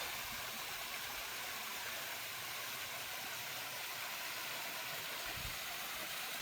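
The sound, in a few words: waterfall, probably Wildcat Falls, NC mountains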